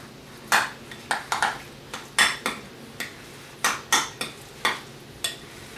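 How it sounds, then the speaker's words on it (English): Guacamole with chopped tomatoes being mixed with a spoon in a bowl: a string of about a dozen sharp clinks and scrapes of spoon against dish, evenly spaced and close, with no talking. "Take a spoon, mix it all, blend it all in."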